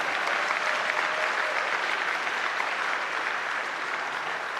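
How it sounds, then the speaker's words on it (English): Sustained audience applause at a university Founders Day ceremony at Bowie, a dense, steady wash of clapping from a large crowd holding at an even level throughout. "Let's give him another round of applause."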